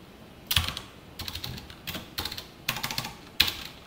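Close, crisp keystrokes on a computer keyboard as C code is typed, coming in short separated bursts with quiet gaps between them.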